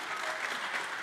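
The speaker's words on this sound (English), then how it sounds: "Can you clap a little, please?" Short burst of audience clapping at a media conference talk, a brief, fairly faint wash of many hands with no one speaking.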